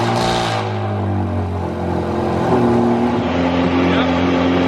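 A straight-piped Ferrari F430 fires up for the first time in over a year, a sharp crank and catch settling into a loud, raspy idle that climbs slightly in pitch, heard close up.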